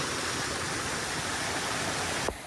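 Water pours steadily at a waterfall near the Mahakali temple in Saravana, a loud, close, continuous rushing roar that drops away abruptly just before the end.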